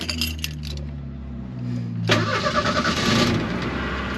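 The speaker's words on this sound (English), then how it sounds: "So let's start it up. So let's see if it starts." An old abandoned Ford Mustang is started with the key: a brief jangle of keys, a short cranking, then the engine catches loudly and settles into a rough, close idle.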